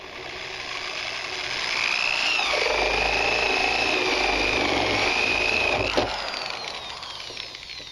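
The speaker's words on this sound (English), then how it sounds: "as you go ahead and drill this through the 3/4, just let the drill bit do the work" A drill bit bores through the plastic wall of a rain barrel, a whining, grinding drone with a sustained rising tone that swells in the middle and cuts off sharply, leaving a low hum.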